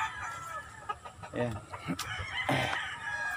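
Chickens and roosters at a farm's poultry pens cluck and crow, with a rooster call rising near the middle. Someone speaks briefly over the birds, and the yard noise is moderately close.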